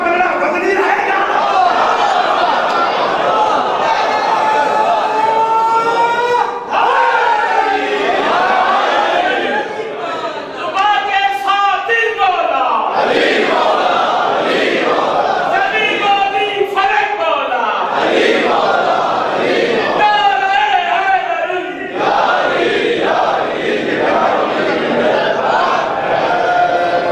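A large crowd at a religious gathering chants slogans in loud, rhythmic unison, voices surging and overlapping almost without a break for nearly half a minute.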